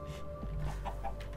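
Chickens clucking in the Minecraft video game, a few short clucks over a low steady background hum, moderately quiet.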